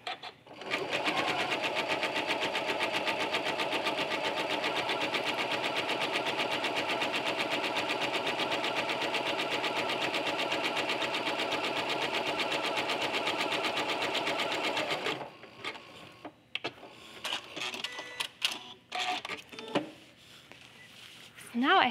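A sewing machine runs steadily for about fifteen seconds, stitching two pieces of quilt batting together, loud and continuous, then stops, leaving softer handling noises and brief clicks.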